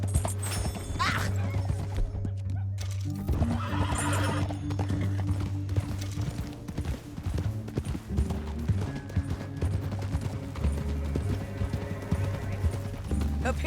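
Horses neigh and whinny over steady galloping hoofbeats in the video game Red Dead Redemption 2, dense and continuous, with a low rumbling soundtrack underneath.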